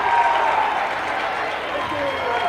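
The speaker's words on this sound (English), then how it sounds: "now you're starting to hear it from the Center Grove fans. They're applauding the defensive effort by the Trojans" Center Grove high school girls' basketball fans applaud a defensive effort during a sectional semifinal. The applause and crowd noise form a loud, steady roar throughout, with a commentator talking over it.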